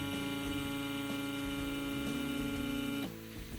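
An airbrush sprays blue paint onto a model as a steady, close whirring hiss with a strong tonal hum, running continuously for about three seconds before it drops off abruptly.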